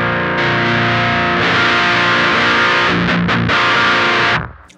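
Electric guitar played through an HM-2-style distortion pedal at its lowest gain setting, sustained chords ringing loudly with a few brief breaks and rechords, then cutting off at the end.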